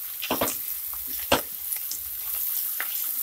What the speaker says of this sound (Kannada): ನೋಡಿ 1 ನಿಮಿಷ ಫ್ರೈ ಮಾಡ್ಕೊಂಡಿದ್ದೀನಿ ತರಕಾರಿ